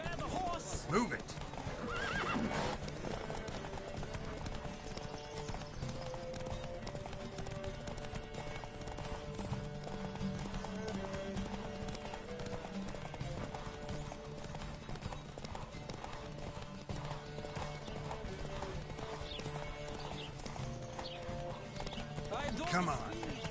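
Horses gallop with rapid rhythmic clip-clop hoofbeats and loud neighs during a horse race in The Witcher 3 video game, under voices talking and shouting throughout.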